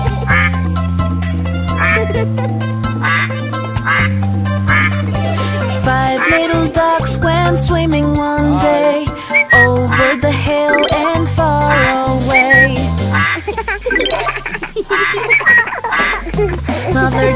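Cartoon nursery rhyme song with a sung duck quack phrase, a voice imitating a mother duck's repeated quacks over bright, steady children's music with bells and a continuous backing track.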